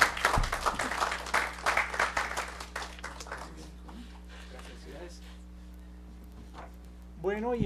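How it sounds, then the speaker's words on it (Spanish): A modest audience at an academic talk on climate change and water resources claps for a few seconds, the sharp claps thinning out and dying away before a voice resumes near the end. "Pues le damos un aplauso a Diego."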